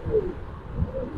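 A pigeon at a pigeon farm gives two short, low coos close by, with no talk.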